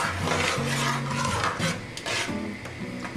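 A spoon stirs and scrapes butter chicken gravy in a pan, with close rasping and rubbing strokes in an irregular rhythm, under a low tonal hum.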